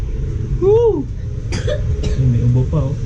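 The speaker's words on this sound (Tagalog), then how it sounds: "May ubo pa, oh." A child coughs a few times close by, short harsh bursts mixed with a high vocal squeal and nearby talking.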